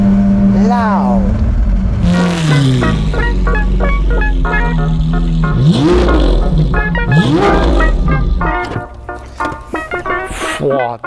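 A Lamborghini Aventador SV Roadster with a 6.5-litre V12 revs hard in repeated rising and falling sweeps. The engine is loud and close, with sharp climbs toward high RPM that then drop back, and it fades into rougher bursts near the end.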